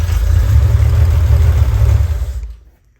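A 1974 Triumph TR6 engine runs roughly at idle, loud and close with an uneven low rumble for about two and a half seconds before it is shut off and dies away to silence.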